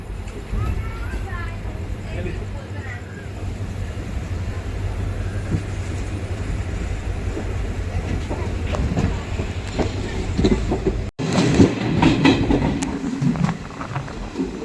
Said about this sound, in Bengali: এইমাত্র আমাদের শিলচর থেকে ট্রেনটা গুয়াহাটি অভিমুখে যাত্রা করলো।